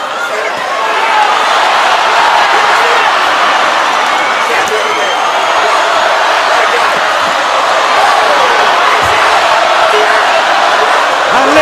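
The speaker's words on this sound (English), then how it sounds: "Listen to the crowd." A boxing arena crowd roars in a dense, sustained wall of cheering and noise throughout a women's title fight, loud and unbroken with no clear individual voices.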